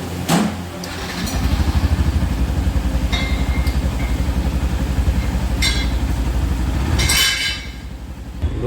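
A Yamaha FZ-X motorcycle engine runs steadily and close by during a repeat test for a fault, a continuous low throbbing hum with a few brief higher-pitched bursts, no talking.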